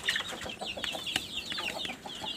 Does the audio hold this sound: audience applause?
no